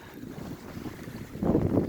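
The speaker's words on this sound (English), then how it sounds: "Nice breeze blowing." Breeze off the St. John River sweeps past an open beach in fair weather, a steady soft wind rush that swells into louder gusting buffets against the microphone near the end, with no voices.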